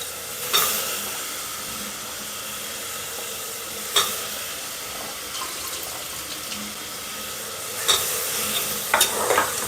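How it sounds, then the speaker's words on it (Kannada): Chopped carrots and beans being stirred into masala in a pan for vegetable pulao, a steady close sizzle broken by a few sharp scraping strokes of the spoon, with no talking. "ನೋಡಿ, ಈ ಥರ ನಾನು ತಿರ್ಗಿಸ್ತಾ ಇದ್ದೀನಿ"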